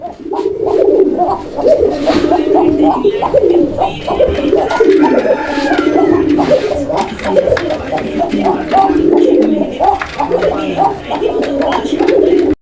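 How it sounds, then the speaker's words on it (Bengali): A male Kakji pigeon coos in repeated, throaty, rolling calls, loud and close in a pigeon farm, with people talking throughout. "এটাও কাকজি কবুতর একটা জোড়া তো আপনারা দেখতেই পাচ্ছেন নটটা ডাকাডাকি করতেছে"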